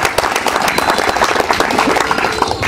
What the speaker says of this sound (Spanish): dele palmas a Cristo